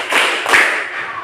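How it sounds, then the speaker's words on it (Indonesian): A classroom of students claps in unison on a teacher's count during a teaching performance exam, giving a few broad, overlapping group claps close by with no talk. "Tepuk 1, tepuk 2, tepuk 3"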